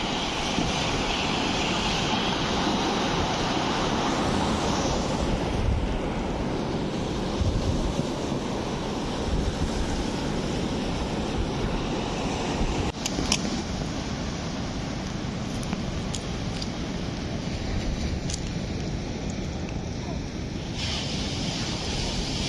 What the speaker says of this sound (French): Oh, on entend bien les vagues, hein.